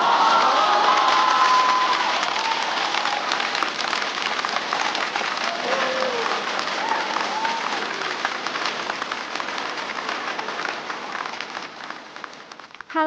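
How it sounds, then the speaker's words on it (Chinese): An audience at a stand-up comedy show applauds to welcome a comedian to the stage: dense, steady clapping that fills the whole stretch, loudest at the start and easing only slightly toward the end. "掌声欢迎粽子"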